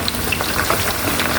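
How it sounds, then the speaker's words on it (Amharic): Onions or ingredients frying in a pan while making achar, a steady crackling sizzle with small pops, close and continuous, no voices. "ያው እንደምታዩት እየተጠበሰ ነው።"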